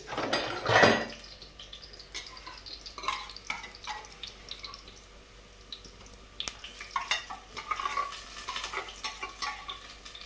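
Ginger paste stirred in a cooking pan for gongura chicken curry, with a loud clatter at the start, then intermittent spoon scrapes and clinks over a faint sizzle, close and uneven.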